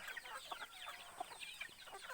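A flock of chickens on a provincial farm clucking and chattering in overlapping bursts, quiet and somewhat distant, with a continuous busy texture of short calls.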